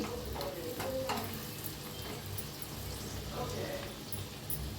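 Garlic, red chili powder and a little turmeric sizzle in very hot oil for a spice tempering with the gas off. The crackle is faint and continuous, with a few brief clinks.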